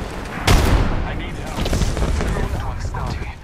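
Rapid bursts of gunfire from a competitive shooter video game, a sharp loud shot early followed by scattered crackling shots, with a player talking over the action.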